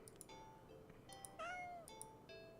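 A cat meows several times up close: short calls, then one long, drawn-out meow that rises and falls, then a few briefer mews, with no one talking.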